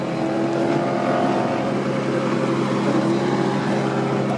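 Drift cars lapping the Castellet circuit during qualification for the French drift championship, a steady, loud wash of engine roar with no pauses, tones rising and falling as the cars push around the track at a distance.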